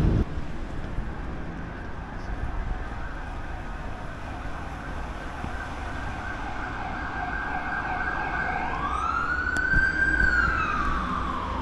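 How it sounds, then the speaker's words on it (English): An emergency siren wails over steady street and traffic noise in Prague, rising and swelling loudly in the last few seconds as it draws nearer. "Sirens, they're disturbing. That's the only thing disturbing right now. It's just sirens."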